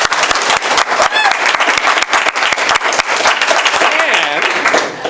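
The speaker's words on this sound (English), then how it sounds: "So give it a big clap." Large audience applause at an industry brewing event finale, dense and steady clapping filling the whole stretch, with voices and a whistle-like cheer rising through the crowd noise.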